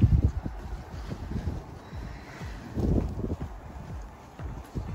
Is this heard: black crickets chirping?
no